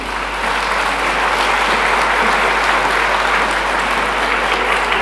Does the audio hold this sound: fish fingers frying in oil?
no